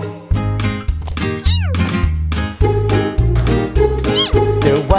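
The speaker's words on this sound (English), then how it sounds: "There was a farmer who had a cat, and Oscar was his name." A cat meowing repeatedly in a nursery rhyme song, loud drawn-out meows with rising and falling pitch over a steady musical backing.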